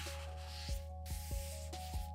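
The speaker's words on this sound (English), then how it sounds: "use fine sanding paper for polishing to remove the subtle lines on the surface" Fine sandpaper rubbed over cured epoxy resin on a restored rusty Japanese knife, a steady soft scratching with three or four stroke-like pulses, close and quiet, no voices.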